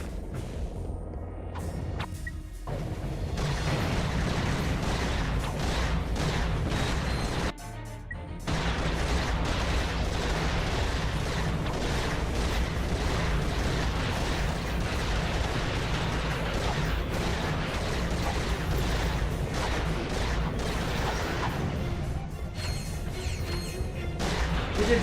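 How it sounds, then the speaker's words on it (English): The suck cannon in Ratchet and Clank Going Commando fires amid dense, continuous game action: bursts, crashes and mechanical clatter sustained loudly throughout, with two brief dropouts early on and no speech. "Man, this suck cannon is working."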